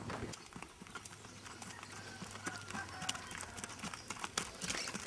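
Horses' hooves clip-clop on savannah country in the Moxos region of Bolivia, a quick irregular patter of soft hoof knocks, fairly faint and distant against outdoor ambience.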